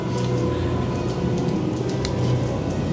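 Steady rain falls outside a theme park restaurant, a dense, continuous wash of drops and patter at a constant level with no talk over it.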